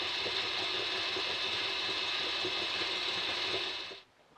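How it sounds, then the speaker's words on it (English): A salt grinder cranks out salt for a waffle batter. The close, continuous ratcheting grind runs for about four seconds and then stops abruptly. "I grind in 4 grams of salt,"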